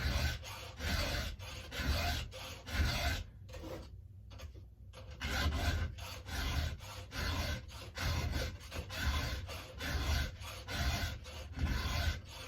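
A hand file sharpening a chainsaw chain makes repeated rhythmic rasping strokes, close and steady, with a brief pause partway through before the strokes resume.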